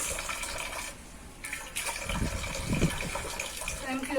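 Water running from the tap of a traditional water heater, a steady hiss and splash of flow with a short dip midway, while a person speaks over it.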